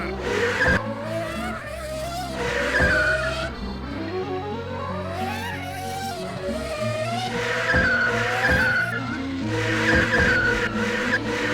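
Race cars starting a race in the video game Reksio i Ufo, with a continuous roar of engines and screeching tires sweeping up and down in pitch, loud and sustained throughout.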